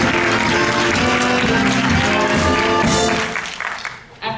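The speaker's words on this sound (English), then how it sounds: "A warm round of applause, if you please, for Mr. Nick Cricker and his son" Theatre audience applauding during a 2019 stage production of The Mystery of Edwin Drood, loud sustained clapping mixed with music and voices, fading out toward the end.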